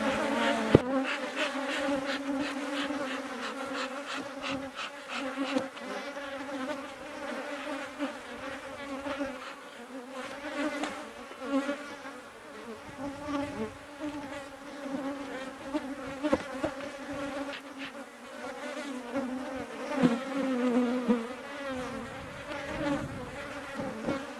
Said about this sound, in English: Bees get all excited about my camera